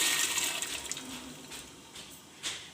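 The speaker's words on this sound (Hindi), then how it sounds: "ये सारी दाल पानी के साथ ही इसमें चली गई है" Chana dal and water are poured into a cooking pot, giving a rushing, splashy pour that starts strong and slowly tapers off, ending in a brief final splash.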